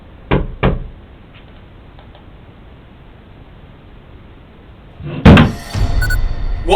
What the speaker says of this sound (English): Knock.